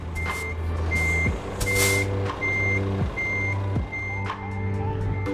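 A heavy truck in Euro Truck Simulator 2 backs up in VR, its reversing alarm beeping in a steady, evenly spaced rhythm over a low idling engine rumble, with a brief air brake hiss and no talking.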